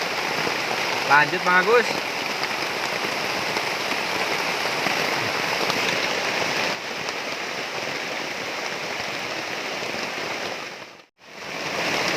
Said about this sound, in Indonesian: Alhamdulillah ketika saung sudah jadi, hujan turun ya.